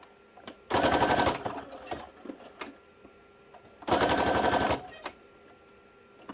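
A sewing machine stitches a purple fabric journal tag in two loud, steady bursts of rapid mechanical chatter, each lasting about half a second, separated by quieter handling noises.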